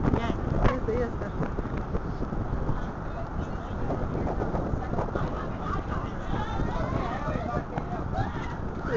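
Steady wind buffeting a microphone outdoors, a constant low rumble and gusty noise lasting throughout.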